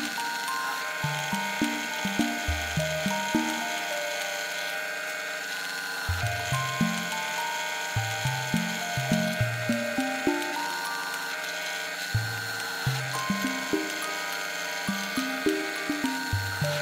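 A vibrating drill press runs with a steady hum and buzz throughout, punctuated by repeated descending clunky tones in short clusters, with no talking.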